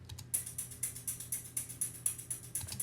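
Red plastic toy shaker from a children's toy set, shaken in an even, quick rhythm of crisp rattling pulses after a brief pause, fairly quiet and close with no voices.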